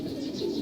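Racing pigeons coo in a short, soft, throaty burst, close by and steady with no voices.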